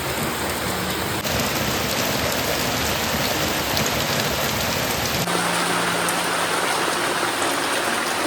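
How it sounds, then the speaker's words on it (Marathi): Steady drizzling rain falls over a village in Sangameshwar, Konkan, a dense, even patter that continues without pause for the whole stretch, with no voices over it. "मस्त रिपरिप पाऊस पडतोय"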